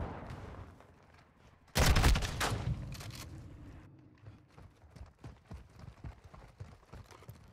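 Enemy gunfire in Call of Duty: Modern Warfare 2 Team Deathmatch erupts as a loud, close burst of rapid shots, then fades into scattered thumps and footsteps.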